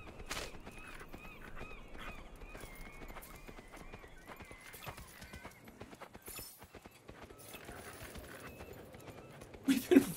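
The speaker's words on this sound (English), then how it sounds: "We've been riding on the horse for like how long?" Horse hooves clip-clopping in the Kinect video game Fable, a steady run of soft hoof beats with occasional whinnies, heard under someone talking.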